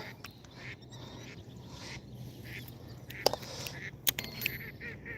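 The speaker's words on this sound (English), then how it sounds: "It's the only thing that irritates me about ducks. They're always freaking noisy as hell." Ducks quack and honk repeatedly nearby at a fishing spot, irregular loud calls over low background rumble with a few sharp clicks.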